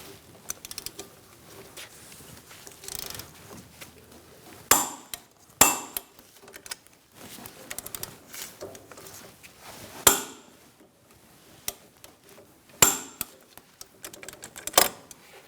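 Wrench work on the front brake caliper bracket bolts of a 2004-2009 Mazda 3: irregular metallic clicks and clanks, a few sharper knocks, close up with quiet gaps.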